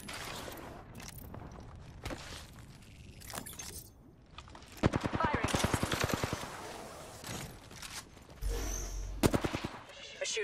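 Rapid automatic gunfire rings out in Apex Legends, with scattered single shots early on and then loud, close bursts of fire, mixed with clattering gear and a brief low rumble.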